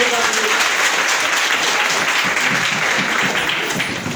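Steady, loud audience clapping fills a network-marketing business talk from start to finish, dense and unbroken with a faint voice blended into the crowd noise.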